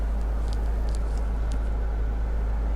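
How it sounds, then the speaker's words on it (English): Steady low rumble of a car's interior while riding along, a constant deep hum with faint higher hiss and no talking. "Ooh, the rumble of the car."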